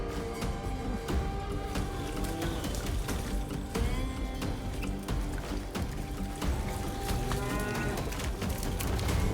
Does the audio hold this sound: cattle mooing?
yes